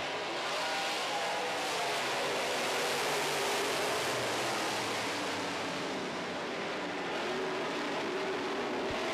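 A pack of modified stock race cars, all Chevys but one Ford, roars off the start line together in a continuous broad engine wash that stays loud and steady throughout.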